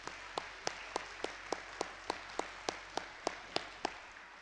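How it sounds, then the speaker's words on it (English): Sparse, evenly spaced hand claps at an elementary school honor roll assembly, about a dozen sharp slaps in a steady rhythm, faint and somewhat distant in a quiet room, with no talking. "let's give another round of applause to all of our honor roll students"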